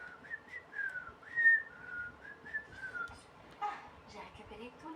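A video game character whistles a short, wavering melody in bright, sliding phrases, with game sounds and faint chatter running underneath.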